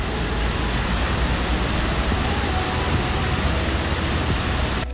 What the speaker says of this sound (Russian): Вот водопад Святой.